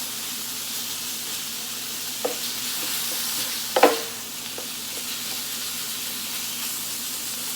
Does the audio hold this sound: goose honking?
no